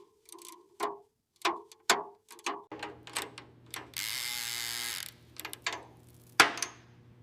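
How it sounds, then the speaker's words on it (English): A ratchet wrench working a seized, rusted nut on a 1974 Datsun 260Z, with sharp clicking bursts and ratcheting pulls spaced out close by, plus a few seconds of steady hiss and a low hum in the middle. "Time to get this rusted nut off."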